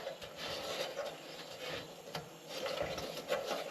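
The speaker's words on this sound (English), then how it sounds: "Dad's back there cleaning the glass." Quiet, repeated rubbing and scraping strokes of cleaning the glass of a century-old CT Ham top-lift lantern, in an irregular back-and-forth rhythm with no talking.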